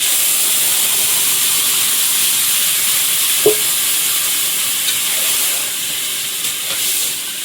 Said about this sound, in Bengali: এবার দেব তেলের মধ্যে একটু রসুন কুচি দিয়ে দেবো